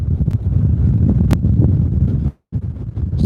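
Loud, steady wind buffeting a microphone, a dense low rumble that cuts out briefly near the end before returning.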